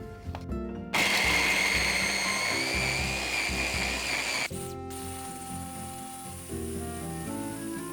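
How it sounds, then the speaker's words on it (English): A blender blending garlic, ginger and onion into a kimchi paste whirs loudly at high speed for several seconds, then drops to a lower, rougher churning as the motor eases off. "I'm going to blend those together"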